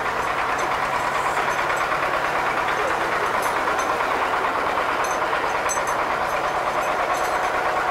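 A T-40 tractor engine runs in winter cold with a steady, loud diesel clatter and continuous rumble, heard close up, with no speech over it.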